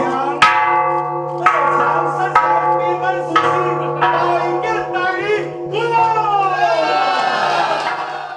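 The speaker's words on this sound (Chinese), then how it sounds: "共同敲响祈福钟声" A temple blessing bell struck repeatedly at a New Year event in Tainan, six or seven ringing strikes spaced about a second apart, each with a long shimmering metallic decay, over a steady hum and a cheering crowd toward the end.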